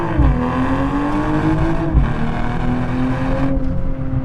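A BMW M240i engine revs up steadily in first gear with rising pitch, then a brief drop as it shifts, continuing to climb; loud, close, no talking.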